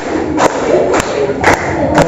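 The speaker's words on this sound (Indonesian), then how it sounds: "Ya, semuanya tepuk tangan." A class of students claps together in a few sharp, evenly spaced beats over a murmuring crowd.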